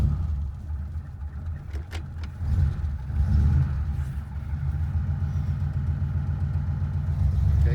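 A 1950 Ford Custom Deluxe V8, started cold, rumbles low and steady up close, swelling slightly as it catches and settles into a rough idle.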